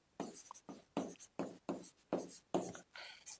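A hand writes a word in a series of short, close scratching strokes, about seven quick bursts separated by brief pauses, with no talk over them.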